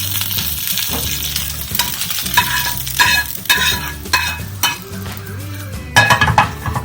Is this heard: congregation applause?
no